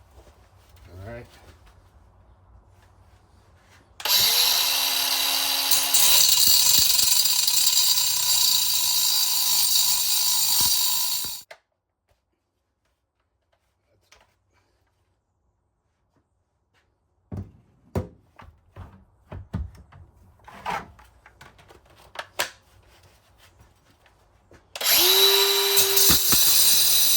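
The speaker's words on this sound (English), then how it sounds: "be safe when you are using a grinder" A handheld angle grinder slices through the metal rear hub shell of a 36-hole spoke wheel with a loud, steady high-pitched whine. It runs in two bursts, with quiet clicks and small handling noises in the gap between them.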